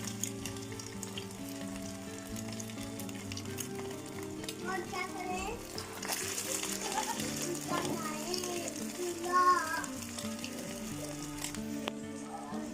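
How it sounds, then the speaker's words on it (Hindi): Potato tikki coated in egg fry in hot ghee, giving a steady close sizzle throughout, with background music and faint voices of children behind it. "अब हमने टिक्की को घी में डाल दिया।"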